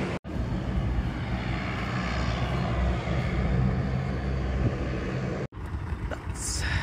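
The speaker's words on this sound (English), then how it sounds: "So we are flying in today, small plane." Small Safari Link propeller plane leaving Mombasa Airport, its engine droning steadily and loudly from nearby, with a brief cut in the sound near the start and another near the end.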